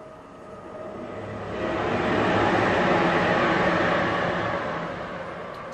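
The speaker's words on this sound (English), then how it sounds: "Sorry for that loud sound of the train" A train passes by, its broad rushing rumble swelling to a loud peak midway, then easing off.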